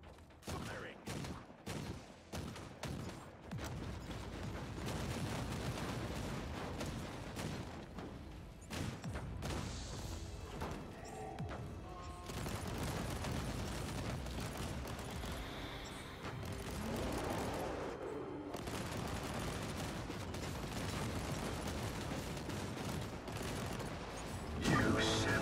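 Rapid gunfire in Warhammer 40k Inquisitor Martyr rattles in dense, sustained bursts, with repeated sharp shots blending into a continuous fusillade and heavier booms underneath.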